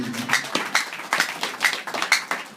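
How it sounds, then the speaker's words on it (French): A church congregation claps together in a loose, rhythmic series of sharp hand claps, moderately close and fairly loud, with no talking over them. "Est-ce qu'on peut applaudir pour la parole du Seigneur?"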